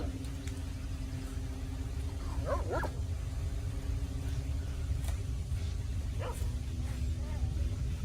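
Dogs barking in the distance outdoors, a couple of short yips and barks standing out faintly over a steady low rumble of traffic or wind.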